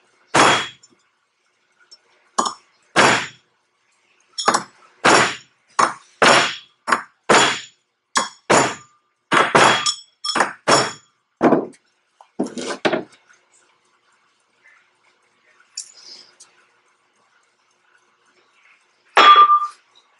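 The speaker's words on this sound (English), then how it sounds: "once you get it down so far, you can actually go in with a hammer" Repeated sharp metallic hammer taps in a steady run, close and fairly loud, seating a dust seal on a John Deere 820 tractor front axle wheel bearing, then a pause and a few scattered strikes.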